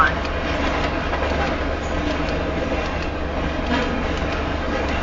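A westbound Union Pacific Z freight train passes at 65 mph west of Nevada, Iowa, a continuous loud roar of rolling wagons and wheel noise close by, steady for the whole stretch.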